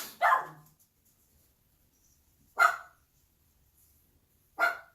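A dog barks three times in short, sharp bursts spaced about two seconds apart, close and clear against an otherwise quiet room.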